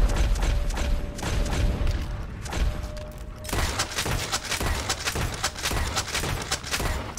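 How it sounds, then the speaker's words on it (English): Varmint rifle gunfire in the Red Dead Redemption 2 video game, a fast volley of sharp shots and mechanical clicks that grows denser toward the end, loud over a continuous game soundscape. "Having to kill them with a varmint rifle."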